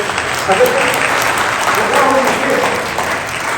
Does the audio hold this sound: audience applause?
yes